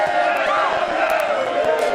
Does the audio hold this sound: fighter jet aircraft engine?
no